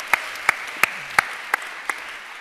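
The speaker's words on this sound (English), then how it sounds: "Applause are nice." Six slow, evenly spaced claps ring out crisply over a quiet room hush at a women-in-tech panel event, sounding like only one or two people clapping rather than a full audience.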